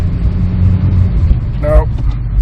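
A 1992 Saab Turbo engine idles with a steady low rumble while a shift is attempted, and a brief clunk or whine stands out near the end.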